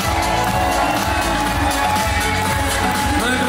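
A festival crowd of parents and spectators cheers and claps loudly and continuously, with children's shouts and whoops mixed into the dense, close roar.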